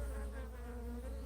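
A large swarm of honeybees buzzes steadily as it moves, a continuous droning hum with no breaks, fairly soft and unaccompanied by voices.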